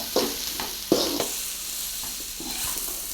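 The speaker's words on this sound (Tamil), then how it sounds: "இது வந்து ஓரளவுக்கு நம்ம அப்படி வதக்கிட்டு" Cauliflower florets sautéing and being stirred in a hot pan for Manchurian, with a steady sizzle broken by a few sharp scraping clacks of the spoon near the start, then a softer continuous fry.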